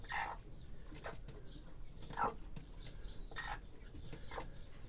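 A hen clucks a few times at a distance, short soft calls spaced a second or so apart over quiet outdoor background.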